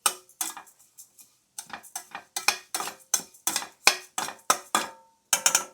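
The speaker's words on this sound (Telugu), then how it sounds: "స్టీల్ బాండి కదా, అందుకని ఇంకా నేను ఫ్రై చేస్తాను." Garlic being stirred in a steel pan gives a string of sharp metallic scrapes and clinks in irregular bursts with short silences between them, close and fairly quiet, with only faint sizzling.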